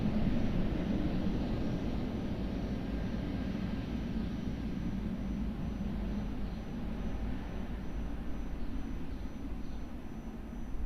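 An airliner at Lisbon Airport roars steadily through its takeoff run, a dense continuous engine rumble and hiss that stays loud and even throughout, with no voices heard.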